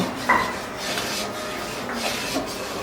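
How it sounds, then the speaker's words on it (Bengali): Khichuri made with Gobindobhog rice is stirred in a cooking pot, giving a steady rasping scrape of the spoon along the pot with a few brighter metallic clinks, close and moderately loud, with no voices. "কারণ খিচুড়ি রান্না করতে গেলে কন্টিনিউ নাড়াতে চাড়াতে হয়"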